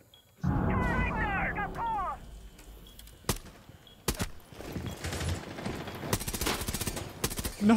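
Bursts of rapid gunfire in Rainbow Six Siege, sharp shots and a dense automatic volley near the end, mixed with a player's excited talk and shouting early on.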